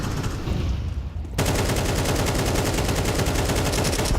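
Rapid automatic gunfire in a Counter-Strike match, a fast, even stream of close, loud shots that starts softer, then surges into a sustained burst.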